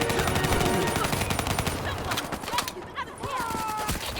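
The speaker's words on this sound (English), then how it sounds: "Give me some cover fire." Rapid gunfire in the video game Call of Duty: Black Ops 3, loud bursts of automatic fire and single shots rattling through a chaotic firefight, with voices calling out amid the shooting.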